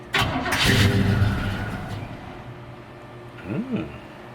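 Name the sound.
1986 Chevy C10 truck engine starting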